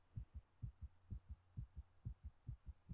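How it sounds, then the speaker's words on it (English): A heartbeat thumps in a quiet room, a faint, steady double-pulse rhythm repeating about twice a second over a low hum, with no voices. "if you are real quiet, you can hear a heartbeat"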